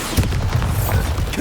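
A Bombarda spell explosion in Hogwarts Legacy, a loud, dense low boom with rumbling, crackling texture that fills the short moment without any pause.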